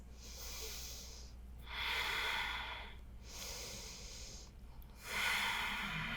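Slow, deep breathing during a yoga flow, long airy inhales and exhales alternating in a steady rhythm, close to the microphone with a soft hiss and no talking.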